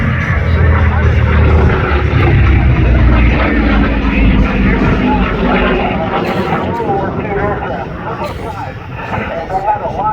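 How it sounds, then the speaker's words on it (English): Goodyear FG-1D Corsair warplane passing at an airshow, a loud engine roar under continuous commentary that gradually fades as the aircraft moves off. "this Corsair was the second aircraft in the fleet"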